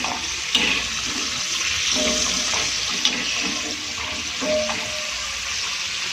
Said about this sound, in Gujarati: આ રીતે આને ફેરવતા રહીશું તો એકદમ સરસ રીતે ક્રિસ્પી ફ્રાય થઈ જાય છે